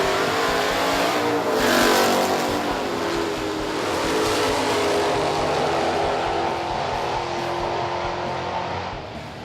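A drag racing car with a 358 cubic inch Cleveland V8, single four-barrel carburettor and three-speed C4 automatic accelerates hard at Sydney Dragway, a loud, sustained roaring engine with rising revs throughout.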